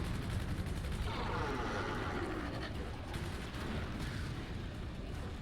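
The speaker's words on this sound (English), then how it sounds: "And gunfire." Gunfire in the prototype video game Meatman, a dense, continuous barrage of rapid shots running the whole time at steady loudness, with no pauses.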